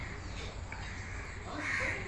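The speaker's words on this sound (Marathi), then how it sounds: "खूप सारे पक्षी आहेत तिथं, त्यांचे आवाज येत आहेत तिकडं." Crows caw repeatedly near a Goa seaside spot, steady outdoor ambience underneath and a louder cawing burst toward the end.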